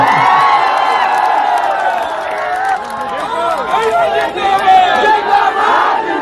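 A large election rally crowd roars and cheers continuously and loudly, with many voices shouting together and some scattered clapping, a dense close wall of sound throughout.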